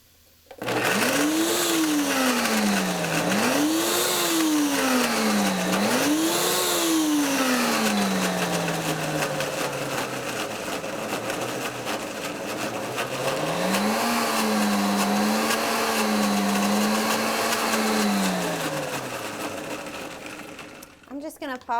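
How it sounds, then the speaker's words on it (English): A kitchen blender grinds raw cashews, its motor roaring loudly and continuously, the pitch rising and falling in three repeated surges, then settling into a longer steady swell before winding down and stopping. "So hopefully this will blend up well."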